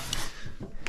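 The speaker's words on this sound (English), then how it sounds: "we'll come in here with a nylon brush and clean this up" A nylon brush scrubbing the freshly waxed and scraped base of a snowboard, short close bristly strokes in quick succession, with no talk.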